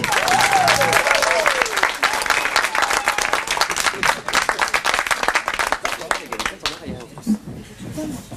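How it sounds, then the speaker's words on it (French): An audience at a singing contest in a cabaret venue applauds loudly for Olivier Martin, with a voice heard briefly at the start; the dense clapping fills most of the stretch, then thins and fades near the end. "je vous demande d'applaudir Olivier Martin"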